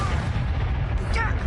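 A spell cast in the Hogwarts Legacy video game: a dense, steady burst of booming low rumble with a bright shimmering flourish near the end, loud throughout with no talk.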